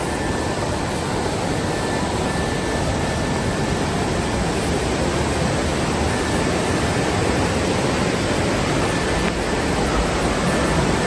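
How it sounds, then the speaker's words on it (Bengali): Stream water rushing through Johnston Canyon in Banff National Park, a loud, steady, unbroken roar with no pauses and no voices. "অসাধারণ পানির শব্দ।"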